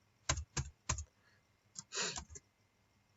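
Someone types on a computer keyboard, about five close, crisp key clicks in a quick irregular sequence, including one longer clattering press, in a quiet room with no talking.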